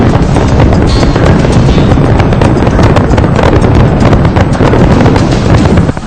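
New Year fireworks over the Burj Khalifa in Dubai crackle and boom continuously and loudly, a dense barrage of bursts with wind buffeting the microphone throughout.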